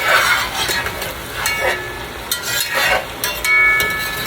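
Broccoli lo mein tossed and stirred in a very hot pot, a loud, close sizzle with repeated scraping and swishing strokes as the noodles are turned.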